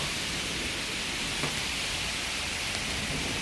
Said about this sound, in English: Now you can see those rain gusts.